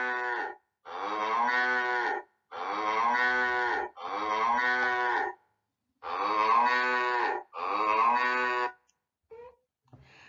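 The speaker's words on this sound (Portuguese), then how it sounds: "nós temos a vaca" A cow moos six times in long, loud, tonal calls with short gaps between, followed by a couple of faint brief sounds at the end; no voices.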